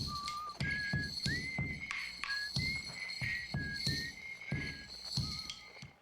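A whistling tone from the signalscope in the video game Outer Wilds, a thin sliding melody over a steady repeating percussive thump, close and fairly loud with no talking.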